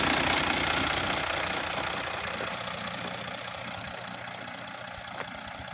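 A Mercedes W204 C320 M642 V6 diesel engine idles steadily up close, a smooth low rumble with a faint rhythmic knock, gradually easing slightly in level.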